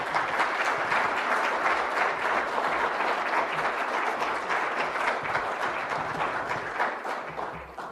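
An audience applauds to welcome Admiral Cecil Haney to the stage before his talk on strategic deterrent forces, with dense, steady clapping that carries for about eight seconds and eases off near the end.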